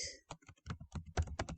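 Quick bursts of keystrokes on a computer keyboard, close and distinct clicks in uneven clusters as a search is typed out.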